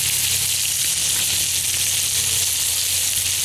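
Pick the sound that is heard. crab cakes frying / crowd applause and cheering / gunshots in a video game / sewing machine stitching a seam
crab cakes frying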